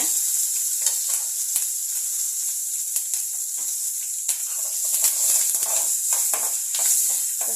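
Curry leaves, dried red chillies, asafoetida and grated coconut sizzle and crackle steadily in a hot oiled pan for coconut rice, with occasional stirring scrapes close by.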